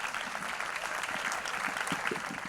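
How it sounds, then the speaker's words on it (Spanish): Steady, dense applause from an audience at a talk on depression and anxiety fills the space, a moderately distant wash of many hands clapping without pause. "Recibamos con un fuerte aplauso a Ana María Jiménez."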